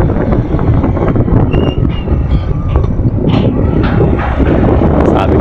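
Cold wind blows at Tagaytay, a loud, rough buffeting roar across the microphone that keeps going with gusty swells, broken by faint scattered clicks, and no voices.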